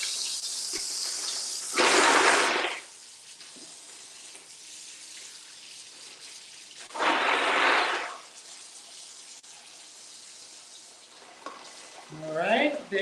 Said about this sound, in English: Let me fill this up with some water.